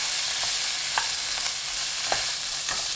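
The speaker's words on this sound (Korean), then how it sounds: "햄이 노릇하게 구워질 때까지 볶아줍니다." Ham stir-fried with minced garlic, cooking oil and mirin in a pan over high heat, a steady sizzle broken by regular light scrapes and taps of a spatula.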